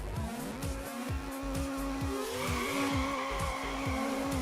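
Mazda MX-5 drifting in the Need for Speed Underground racing game, engine pitch repeatedly rising and dropping through gear shifts while tires squeal steadily underneath, loud and continuous with no talk.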